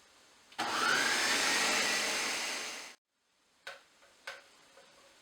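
A kitchen blender runs loud and steady for a couple of seconds, rising in pitch as it spins up, then cuts off, followed by a couple of brief knocks or clicks.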